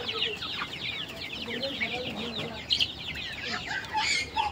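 Chickens cluck steadily in a small poultry farm shed holding both chicks and grown birds, a dense overlapping chorus of clucks and chirps close by, with a few louder calls standing out.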